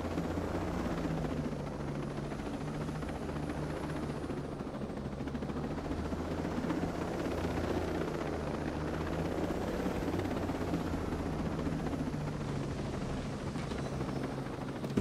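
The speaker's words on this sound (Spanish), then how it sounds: "Me copa cómo aterriza el helicóptero" A helicopter lands in the video game Ghost Recon Breakpoint, its rotors a steady, loud, throbbing drone that fills the whole stretch without pause or talking.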